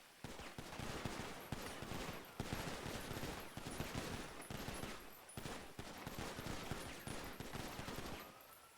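Rapid, dense gunfire volleys from a NoPixel roleplay video game, sharp cracks overlapping in a continuous, loud barrage with brief gaps, with no talk over it.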